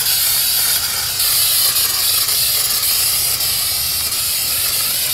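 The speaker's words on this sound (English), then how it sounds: "Kind of hard to see where you're spraying because it's already sprayed." Waterproofing sealant sprays onto a garden waterfall in a steady, close hiss lasting several seconds, with slight pulses where the spray briefly pauses and resumes, and no talking.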